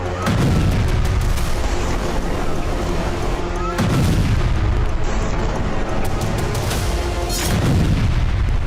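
Israeli strikes hit buildings in Gaza, heavy booming explosions recurring about every few seconds over a continuous loud roar of rumble and crackling debris.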